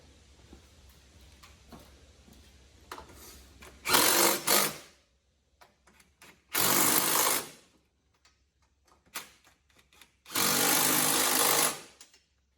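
A power tool tightens strut tower bar bolts on a 2019 Dodge Challenger R/T Scat Pack Widebody in three loud, close bursts of whirring lasting about one to two seconds each, with quiet handling clicks between them and no talk.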